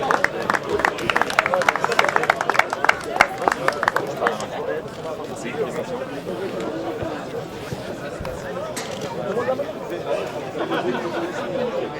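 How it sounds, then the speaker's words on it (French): At a gala football match, a crowd claps for the referees. Early on the clapping is distinct and fairly close, then it fades into a general murmur of crowd chatter and voices that continues to the end. "Vous pouvez les applaudir"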